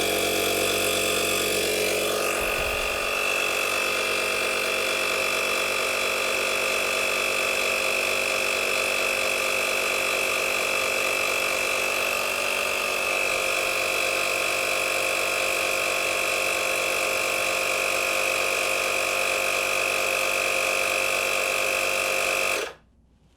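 An AstroAI tire inflator air compressor pumps up a tire toward 32 PSI, giving a loud, steady buzzing drone that runs unbroken for about twenty seconds before cutting off abruptly.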